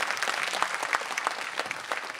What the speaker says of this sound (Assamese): এটা হাত চাপৰি সকলোৰে পৰা